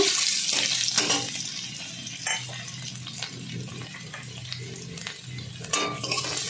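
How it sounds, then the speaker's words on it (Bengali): Chopped ginger and garlic stirred in hot oil in a pan for Maggi noodle soup, with a steady low sizzle under repeated sharp clinks and scrapes of a utensil against the pan, close and fairly loud. "দিয়ে দেবো রসুন কুচি, একটু নেড়ে নেব।"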